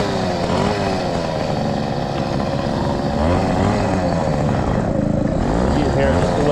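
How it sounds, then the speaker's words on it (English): A new 100cc motorized bicycle engine running lean buzzes close by with no load, its revs wavering and sagging unevenly as it bogs down, while someone talks over it. "You can hear just the way it, with no weight on the motor, it bogs down."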